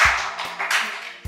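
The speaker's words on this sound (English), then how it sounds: "Round of applause." A short round of clapping from a small group in a classroom-style discussion, a few quick bursts of hand claps that fade within about a second before another clap starts.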